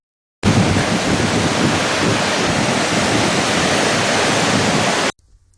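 Gold Creek Lower Falls waterfall roaring in a steady, dense rush of white water, close and loud, unbroken for about five seconds before cutting off abruptly.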